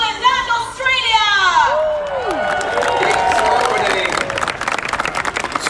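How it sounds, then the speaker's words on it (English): A crowd in the stands at a jousting tournament between England and Australia cheers and whoops, with an announcer's voice at the start and continuous shouting and clapping throughout. "raise your voices in a cheer"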